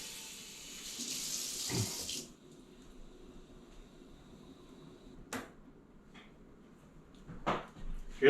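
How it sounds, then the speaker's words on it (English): Water pours from a tap into a gallon jug while making wineberry wine, a steady splashing rush for about two seconds that then stops, followed by quieter handling knocks and a few clunks. "set that aside and add some more water."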